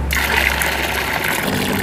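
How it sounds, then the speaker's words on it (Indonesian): Mung beans are rinsed under running tap water, a steady close splashing gush that runs throughout without a break. "Jadi ini sekarang kita cuci di air mengalir ya"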